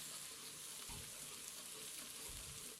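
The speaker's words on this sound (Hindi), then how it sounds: "लहसुन अदरक हमारा फ्राई हो रहा है।" Garlic and ginger paste fries in a spoonful of oil for a spicy chicken soup, giving a steady, fairly faint sizzle with a couple of soft low knocks and no talk.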